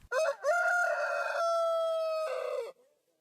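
A single rooster crows nearby, one loud drawn-out cock-a-doodle-doo lasting nearly three seconds before cutting off into quiet.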